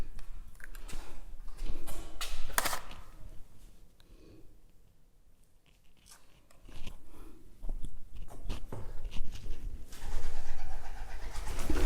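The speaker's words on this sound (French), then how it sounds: "j'entends les bruits des pigeons" Pigeons coo inside the château de Bioule at night, soft throaty calls scattered among rustling and shuffling noises that fade to near quiet midway before rising again.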